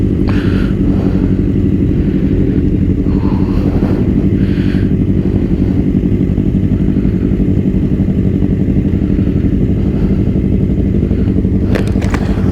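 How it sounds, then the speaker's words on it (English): Several sportbikes rumble together on a group ride, a steady loud engine drone with wind noise throughout and brief clattering near the end. "you can see it's just nothing but super bikes"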